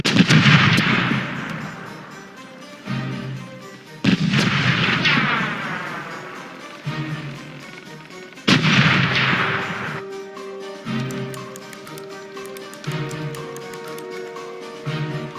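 Heavy cannon broadsides from sailing ships in the pirate game Corsairs Legacy: three loud booming volleys with long rumbling decays, followed by lighter scattered shots and crackling impacts.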